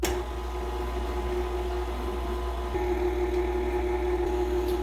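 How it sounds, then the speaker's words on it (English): A stand mixer cuts shortening into biscuit mix, giving a steady, fairly quiet motor hum with a constant whine that runs without pause throughout. "we're going to use our stand mixer to cut it in"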